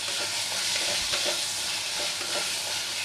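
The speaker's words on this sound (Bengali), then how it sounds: "নুন দিয়ে একটু ভালো করে নেড়ে নিই।" Spiced chicken masala with salt sizzling in a pan for Kolkata dhaba-style chicken bharta, stirred steadily so the spatula scrapes and clicks through a continuous close frying hiss.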